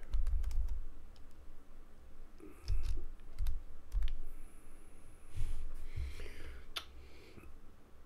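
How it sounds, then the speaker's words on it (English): A Windows 11 PC keyboard is typed on in short bursts of close, crisp key clicks, separated by brief pauses and a few louder thumps, with no talking. "you go to start, type in Windows features"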